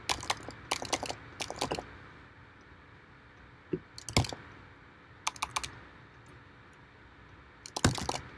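Keys tapped on a computer keyboard in short bursts of quick clicks separated by quiet pauses, close and fairly crisp.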